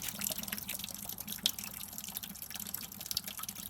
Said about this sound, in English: allow the rest of the water to drain out